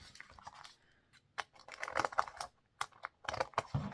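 Scissors snip through paper while a paper gingerbread man ornament is cut out, heard as quiet, close, irregular clusters of short crisp cuts with brief pauses between them.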